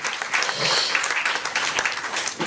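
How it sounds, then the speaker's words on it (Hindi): An audience applauds to welcome a whole team at a political event in Bhopal, a dense burst of many clapping hands that holds steady for a couple of seconds, fairly loud and close. "एक बार फिर से तालियां बजाकर पूरी टीम का स्वागत करें"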